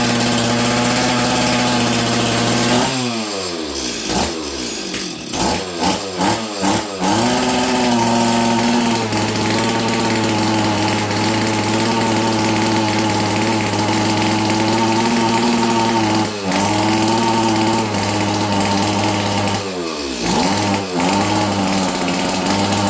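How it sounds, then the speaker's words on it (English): A used auction chainsaw starts and runs at fast idle, a loud, buzzing two-stroke drone close by, with several sharp rev dips and surges early on and again near the end. "I'm just going to fire the saw up like this and see what we can get it to do now"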